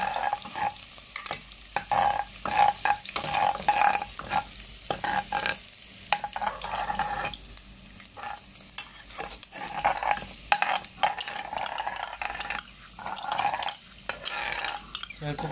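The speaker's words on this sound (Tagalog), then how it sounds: "gisa-gisa lang po natin" Ingredients for misua sautéing in a pan with garlic and onion, sizzling steadily while a utensil stirs and scrapes against the pan in irregular bursts, close and continuous, with no talk.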